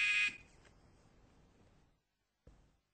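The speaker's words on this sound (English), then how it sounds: "now we'll start at the sound of the buzzer" A short, harsh electronic buzzer blares to start a timed quiz and cuts off quickly, followed by quiet room tone and a faint knock.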